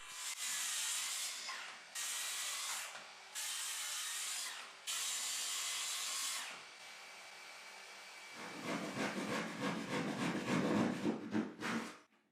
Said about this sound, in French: je suis prêt à découper les panneaux latéraux.